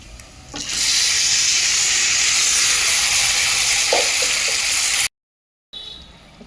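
Grated bottle gourd lands in a hot spice tempering for a gourd curry, setting off a sudden loud sizzle that holds steady for several seconds before cutting off, with no voices.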